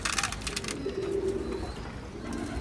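A low, soft coo from a flying pigeon being handled drones steadily for about a second, with faint rustling and handling noise around it.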